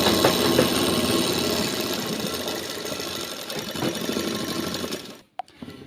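Sewing machine stitching the seams of a trouser pant, a steady loud mechanical whirr with rapid needle chatter running continuously for about five seconds, then stopping abruptly followed by a couple of faint clicks.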